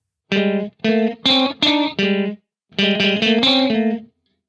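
Electric guitar run through a TC Electronic Brainwaves pitch shifter pedal, a harmonized note added a tritone away, playing a phrase of five sustained chords, a short pause, then four more ringing notes that stop cleanly.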